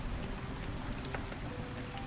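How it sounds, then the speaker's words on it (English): Steady, dense rain falls throughout a scene in the video game Rainswept, a constant hiss of downpour with no voices over it. "I can't hear you over the rain."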